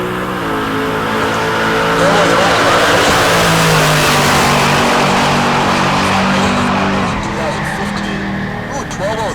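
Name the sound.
Duramax Chevelle drag racing pass at Heartland Park Topeka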